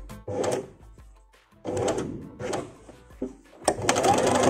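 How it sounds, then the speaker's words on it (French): A sewing machine stitches the side seams of a flared godet dress in bursts of fast mechanical whirring, stopping and starting several times, close and clear. "j'ai fini de coudre les deux côtés"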